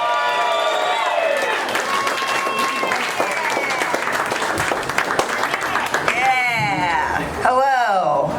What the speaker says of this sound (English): Start clapping right now for Katie Hughes